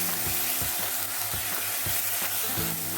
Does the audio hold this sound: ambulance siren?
no